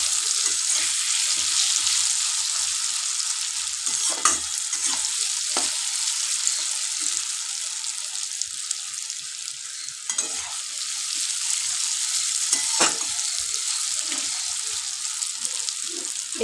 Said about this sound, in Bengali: লাল লাল করে ভাজবো যাতে সিদ্ধ হয়ে যায়।